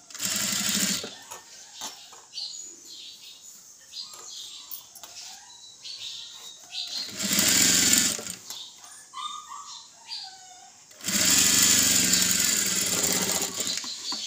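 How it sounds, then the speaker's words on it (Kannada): A sewing machine stitches a hemmed strip in a tailoring class, running in three loud, steady bursts of whirring motor and rapid needle chatter. Quieter pauses between the bursts hold small handling clicks and rustles. "ಇದರಿಂದ ಕರೆಕ್ಟಾಗಿ ಇದನ್ನ ನಾನು ಸ್ಟಿಚ್ ಹಾಕ್ತಾಯಿದ್ದೀನಿ"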